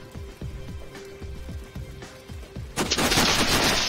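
Rifle fire in the video game Sniper: Ghost Warrior: a steady run of about eight shots with sharp low thumps, then a loud burst of dense, hissing crackle near the end, with no talking.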